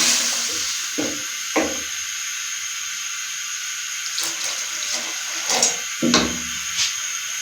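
Yakhni stock pours into a pot of boiled chickpeas and black-eyed peas, giving a steady, faint liquid hiss and trickle with a few soft clinks and knocks scattered through it.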